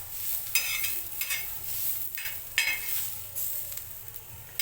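Coconut and onion roasting together in a pan with a little ginger and garlic, heard as a soft continuous sizzle with periodic scraping stirs at an even rhythm, close and fairly quiet, no voices.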